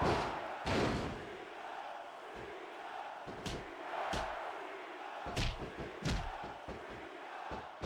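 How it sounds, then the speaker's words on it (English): Arena crowd roaring in a WWE 2K25 wrestling match inside a Hell in a Cell cage, a steady crowd bed broken by sharp slams and thuds from the ring. "This capacity crowd is solidly behind their superstar."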